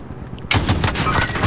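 Video game gunfire opens suddenly with a rapid, loud burst of shots that runs to the end.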